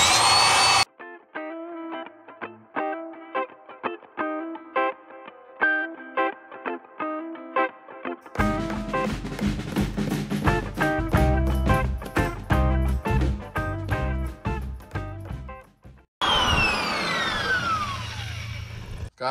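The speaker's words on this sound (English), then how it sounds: "So I went ahead, ran that abrasive all around there and got it all cleaned up." A drill spins a nylon abrasive wheel against rusty metal on a VW Beetle's rear cradle and luggage compartment, giving a loud whirring, scouring grind that rises and falls in pitch through repeated passes, with brief stops and restarts.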